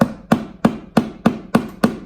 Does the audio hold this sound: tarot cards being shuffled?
no